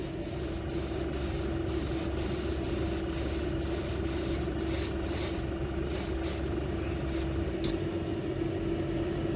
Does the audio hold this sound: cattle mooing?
no